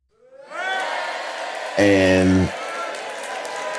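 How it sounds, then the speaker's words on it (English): An audience erupts in cheering and whoops with some clapping, rising quickly to a steady crowd roar, with a loud sustained voice briefly over it. "that's your round of applause"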